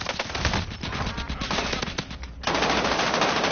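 Rapid automatic gunfire from the video game Call of Duty Warzone, dense bursts of close, loud shots that run almost without pause and swell louder after a brief dip, with no talking over them.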